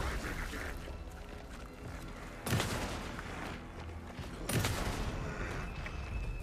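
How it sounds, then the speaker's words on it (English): A sawed-off shotgun fires in a video game, two heavy booming blasts a couple of seconds apart, each with a short decaying tail, over a low, busy background. "this sawed-off shotgun sucks"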